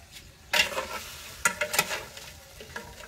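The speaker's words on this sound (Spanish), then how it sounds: "los langostinos ya se están friendo." Langostinos fry in a pan, a soft steady sizzle broken by several sharp bursts of crackling and scraping as they are stirred.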